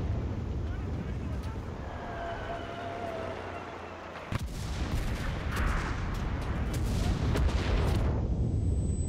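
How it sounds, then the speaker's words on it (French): Bombs exploding during a battle in Russia in the Enlisted war game, a heavy deep blast that rumbles on with scattered gunfire and battle noise while someone talks. "Ah, les bombes!"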